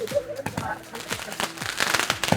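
Firecrackers burst during a New Year celebration outside a hotel, a string of sharp cracks and pops at irregular intervals, fairly near, mixed with voices and talk throughout.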